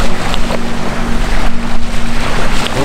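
Strong wind gusts blowing steadily at a Danube riverbank, a loud continuous rushing roar that surges and eases over a few seconds, with a low steady hum beneath and no voices.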